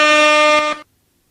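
A single loud, sustained air horn blast sounds for under a second as a sound effect, then cuts off abruptly into silence.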